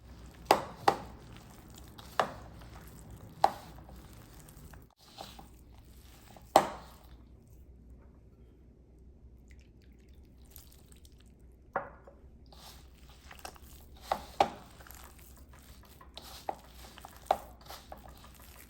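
Dough of batter and chopped coriander being mixed and kneaded by hand with added water, giving soft squishy slaps and wet presses in a scattered rhythm, close and fairly quiet, with quiet gaps between.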